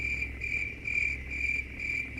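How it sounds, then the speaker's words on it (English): Steady, continuous cricket chirping from the 7 Days to Die game world, a bright pulsing trill held at an even level throughout, with no voices over it. "Oh yeah, we needed crickets."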